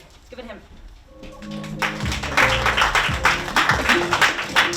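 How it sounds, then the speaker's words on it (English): Audience applause at a poetry event, starting sparse and building into a steady burst of many hands clapping in a room, with some voices mixed in. "Thank you for those late claps"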